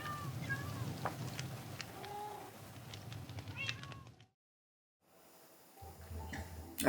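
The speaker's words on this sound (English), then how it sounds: "we can just sit with our cat by the fire and watch the sunset" A cat in the Minecraft video game meows several times by a fire, in short, clear game-sound meows. A soft background hum runs under them, the sound cuts to silence briefly, then the background returns.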